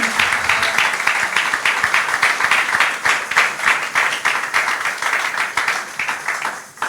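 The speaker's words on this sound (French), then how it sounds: "On acclame très fort le Seigneur." A church congregation at a Sunday service applauds loudly and continuously, a dense, close wash of rhythmic clapping that holds steady throughout.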